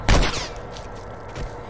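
Gunfire in The Last of Us video game, a sharp loud burst of shots at the start followed by a fading rumble and another fainter shot later, with no speech.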